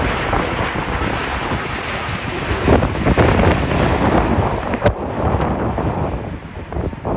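Heavy wind buffeting the microphone at Sydney Airport, a constant loud rumbling roar with gusty bursts throughout, no voices.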